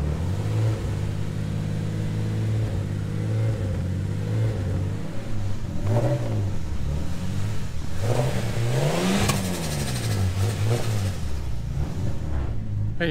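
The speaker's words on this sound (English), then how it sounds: "Just gonna have to hold the revs up a little bit." A cold Ford Falcon AU Turbo ute engine runs close by, held at a raised idle, then blipped through several rising and falling revs in the second half, its rumble steady throughout.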